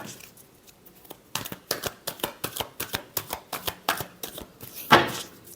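Tarot cards being shuffled in a run of quick, crisp riffling bursts that build to a sharper snap near the end, fairly close and with no talking.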